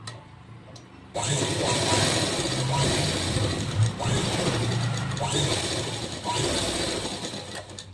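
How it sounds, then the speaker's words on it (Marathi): A sewing machine runs press stitching along a joined fabric strip for a hook-strip back panel, a steady mechanical whir and needle chatter starting after a second of quiet and continuing in long runs with brief pauses. "आता याच्यावरती दाब शिलाई करायची"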